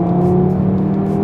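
An Audi RS3 8V with its 2.5-litre turbocharged five-cylinder engine, a loud, steady, close warble under brief acceleration, lasting just over a second with no voices.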